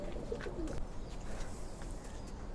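Lalpatti pigeons coo softly in a low, faint murmur over steady background noise, with a few brief chirpy notes early on and no speech.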